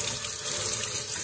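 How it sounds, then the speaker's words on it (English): Tap water runs steadily from a kitchen faucet into a bowl used for rinsing sprouts, a loud, close, continuous splashing hiss with no break. "what I do by that is I just turn the water on,"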